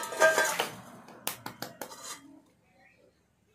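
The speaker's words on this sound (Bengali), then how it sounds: "এবার এতে দেখো আমি ডিমগুলো ফাটিয়ে নেব।" Eggs for a Christmas cake are cracked against a bowl in a home kitchen, with several quick, close taps and clinks, followed by near silence.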